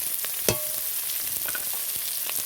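Chopped onion and green chili frying in a pan, a close, dense crackling sizzle with a sharp clink of a spoon early on and soft stirring scrapes throughout, without speech.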